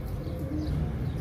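Soft, low cooing of a teddy pigeon murmurs steadily throughout, a muffled close-up sound with a faint background hum and no talking.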